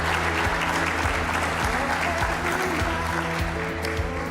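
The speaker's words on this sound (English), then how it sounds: "How about a having me. nice round of applause once again" Studio audience applause on a morning talk show, a dense steady wash of clapping from a seated crowd that holds at an even level for the whole stretch, with faint voices beneath.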